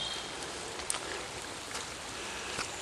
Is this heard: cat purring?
no